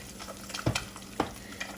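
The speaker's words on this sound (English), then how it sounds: "So you're going to keep on frying this right here." Bacon and egg fry in a pan for bacon fried rice, a low steady sizzle close by broken by two sharp scraping stirs, with no talking.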